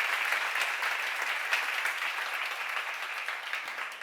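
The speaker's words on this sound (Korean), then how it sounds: "박수로 하세요." A seminar audience in a church-style hall claps together for about four seconds, a dense, even wash of applause that fades slightly toward the end.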